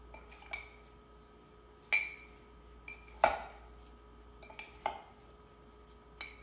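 Apples being mixed with sugar and cinnamon in a bowl: scattered clinks and scrapes of a utensil against the dish, about half a dozen separate knocks with quiet gaps, faint and close with a steady low hum underneath.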